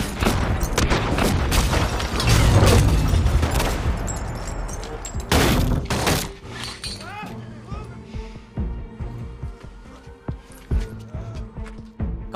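Gunfire from a violent confrontation in an action film: bursts of loud gunshots and heavy booms mixed with shattering glass and clinking debris, rapid irregular volleys that ease into scattered impacts and tinkling fragments, with dialogue woven through.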